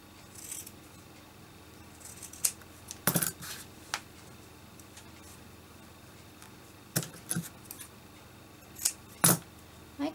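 Scissors snipping a small triangle of fabric for a silk slipper needlekeep, heard as a few sharp, separate cuts spread over quiet room tone.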